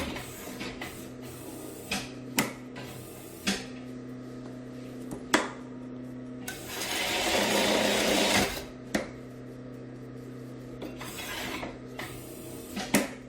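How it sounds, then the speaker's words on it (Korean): A knife skiving down a leather scrap, heard as short sharp scraping strokes spaced irregularly, with one longer rasping shave in the middle, close and fairly quiet. "이 쪼가리를 다시 또 깎아 봐야죠"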